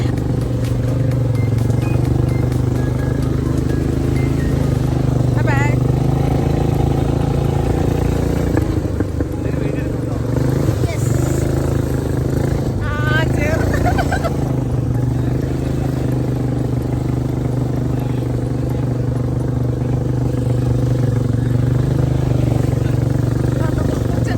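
Off-road ATV buggy engine droning steadily through a ride in Wayanad, Kerala, a loud continuous mid-range rumble with rattling clatter over the full stretch.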